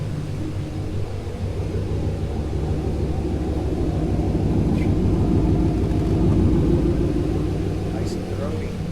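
A throaty engine idles steadily inside a shop while coolant is circulated, a deep continuous rumble that stays loud and even throughout, with a voice talking over it.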